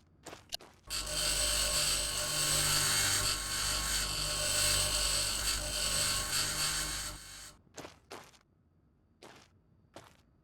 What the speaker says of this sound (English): I'm really liking this grinder, man. It makes small work of this stuff.